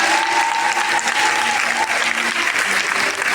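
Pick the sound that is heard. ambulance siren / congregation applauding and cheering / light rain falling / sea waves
congregation applauding and cheering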